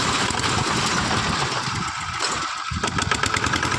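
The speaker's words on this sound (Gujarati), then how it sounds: "અને જો મશીન જો ચાલુ થઈ ગયું છે." A sorghum (jowar) cutting machine's engine runs steadily on a farm, a loud continuous mechanical drone with a brief dip in the middle before resuming at full strength.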